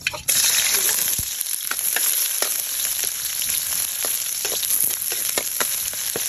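Hot cooking oil sizzles loudly and steadily in a pan while chicken adobo is prepared, with scattered sharp pops and crackles over the constant frying hiss.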